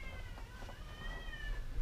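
A cat meows with a drawn-out, wavering tone, fairly close, over a low rumbling background noise, during a tenant eviction.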